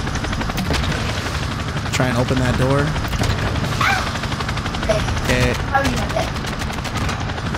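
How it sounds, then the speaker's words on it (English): A chopper gunner helicopter fires rockets in the Call of Duty video game, with bursts of gunfire and explosions over rotor noise while people talk throughout. "Hit marker with a chopper gunner rocket."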